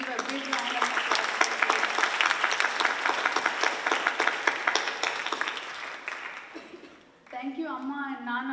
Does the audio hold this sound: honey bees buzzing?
no